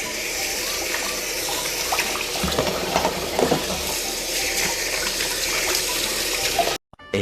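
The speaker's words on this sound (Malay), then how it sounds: "kita rebus ikan ni sehingga ikan tu masak" Fish boiling in water in a pot on a stove, a continuous loud bubbling and rushing churn that holds steady, close by, and ends with a short abrupt cut.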